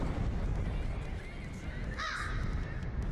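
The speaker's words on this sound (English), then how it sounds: "There's The Crow." A crow caws faintly once or twice outdoors against steady broadband background noise, the calls brief and somewhat distant.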